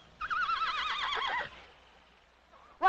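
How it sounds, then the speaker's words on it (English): A horse whinnies loudly and nearby in a 1954 Western film, a long wavering neigh lasting over a second, followed by a pause and the start of a second sharp whinny. "I thought I heard a horse."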